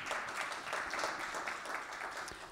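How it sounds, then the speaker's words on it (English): Conference audience at an education award presentation applauds, a continuous, fairly soft roll of many hands clapping in the room, steady with slight swells and a few crisper claps near the end. "Yes, that is worthy of applauding."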